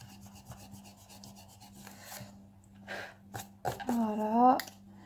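An eraser rubs across a bullet journal page in short scratchy strokes, close and fairly soft, building to a louder burst of rubbing near the end, with brief vocal sounds between.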